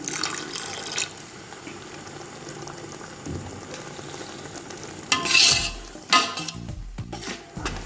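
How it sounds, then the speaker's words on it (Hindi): Chicken korma curry sizzles and bubbles in a pan with stirring and clinks of a utensil against the pot, a brief louder hiss rising midway as water is added. "थोड़ा पानी और डालेंगे।"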